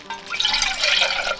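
Water pours into a cooking pot at a lochside wild camp in the Scottish Highlands, a close, steady splashing fill lasting a moment with no talk.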